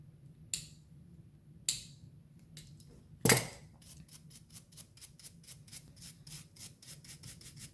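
Scraping and rubbing on a lead-head fishing jig mould being cleaned by hand, with a few sharp knocks early on, then a steady run of quick, regular rasping strokes, close and fairly quiet.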